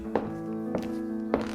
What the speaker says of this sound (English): Footsteps at the door announced that Bobby's returned.